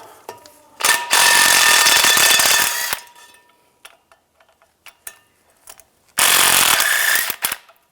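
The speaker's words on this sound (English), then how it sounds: "Use an 11mm socket, take these bolts out." An 11mm socket on a ratchet works loose the differential mounting bolts of a 2007-13 Chevy Avalanche, giving two loud, close bursts of rapid, buzzing clicks about two seconds long, separated by a few quieter taps and knocks.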